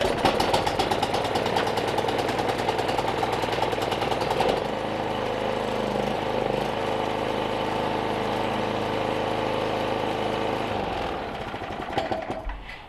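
A Toro Power Max 828 snow blower's Toro engine runs steadily at close range, a loud continuous mechanical drone with a shift in tone partway through before it tapers near the end, with no talking.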